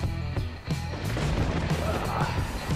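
Gunfire in the video game DayZ Standalone: several sharp shots crack at irregular intervals over a steady background, with voices talking.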